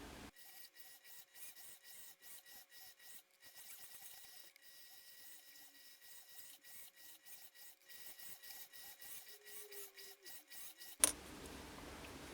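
Fine-grit sanding of a handmade forged metal ring gives steady, rhythmic rasping strokes, close and fairly quiet, followed by a sharp knock and a burst of broadband noise near the end.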